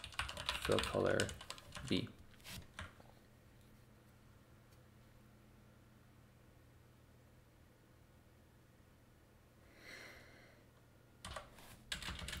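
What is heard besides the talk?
typing on a computer keyboard during live coding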